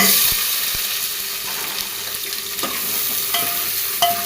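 Chunky-cut onions sauté in a pan with cinnamon and cloves for veg pulao, giving a loud, steady frying hiss with occasional scraping clicks of a spatula and a brief ringing clink near the end.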